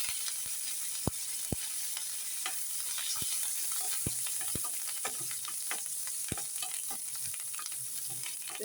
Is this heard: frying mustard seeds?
yes